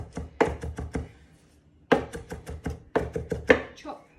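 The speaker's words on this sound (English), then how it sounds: "Roughly chop the mint." A knife roughly chops fresh mint for a herb and flower salad. Rapid, crisp taps hit a cutting board in quick clusters, separated by short pauses.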